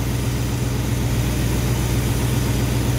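A car engine idling with no load, its timing advance checked by vacuum canister, gives a steady low rumble that holds evenly and fairly loud, close by, with no voices.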